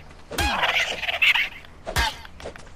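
Dodo bird calls from ARK: Survival Evolved, two separate squawking bursts with a gap between them, close and fairly loud, with no talk over them.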